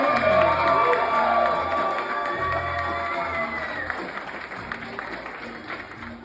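Comedy club audience at a Wiseguys show cheering, whooping and applauding loudly for a headliner coming onstage, a dense sustained roar that tapers slightly over six seconds.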